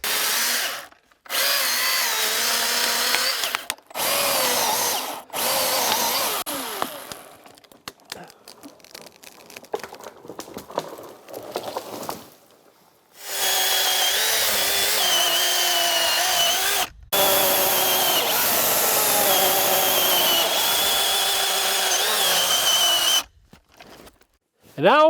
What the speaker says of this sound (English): these electric chainsaws are pretty quiet, so I don't really need to